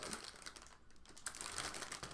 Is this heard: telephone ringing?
no